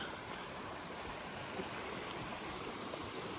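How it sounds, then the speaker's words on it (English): Water rushing loudly in a mountain stream beside a hiking trail in the Rockies' Highwood valley at West Stony Pass, a continuous broad roar without pause. "Look at all the water. I haven't seen water like this at all day. Makes a lot of racket."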